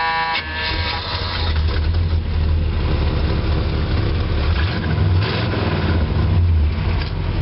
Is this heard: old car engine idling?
yes